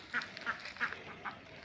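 Domestic ducks resting near water in a Padma riverside village in hot weather give four faint, evenly spaced quacks, heard alone at a distance.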